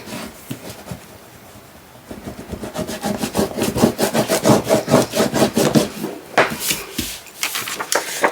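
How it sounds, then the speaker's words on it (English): A tool burnishes paper down onto a card album page with brisk, repeated rubbing strokes, close and fairly loud, that start after a quiet opening and continue in a steady back-and-forth rhythm. "we're going to burnish it down as best we can"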